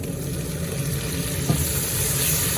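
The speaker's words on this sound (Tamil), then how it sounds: "இப்போ தக்காளி பழத்தை போடுவோம்" Tomatoes tipped into a hot frying pan for a prawn puttu dish, with steady close sizzling and frying hiss and the soft scrape of stirring, no voices.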